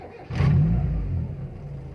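A Timor car engine, already warm, cranks and fires, then revs up sharply before settling back into a steady idle hum, close and fairly loud.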